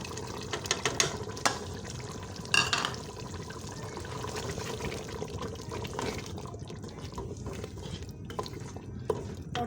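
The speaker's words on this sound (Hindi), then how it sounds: "अब हम इसमें 1 प्याली दही डाल देंगे।" Yogurt is added to a pot of beef korma and stirred, with steady wet stirring and scraping throughout, several sharper clinks of the spoon against the pot, and a close, busy cooking sound.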